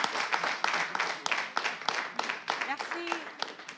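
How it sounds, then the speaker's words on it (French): Scattered audience clapping for a contestant at a French-language presenter competition, uneven bursts of hand claps that rise and fall, fairly light and sparse, with brief voice-like tones faintly underneath. "Merci de l'applaudir,"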